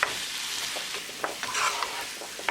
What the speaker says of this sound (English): Keep it moving and make sure that all masala is nicely coated to the pumpkin